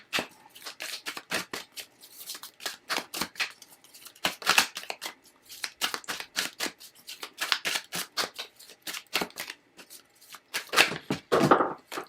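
Tarot cards are shuffled by hand in quick bursts of crisp riffling and flicking, close and fairly loud, with short pauses between runs and no talking.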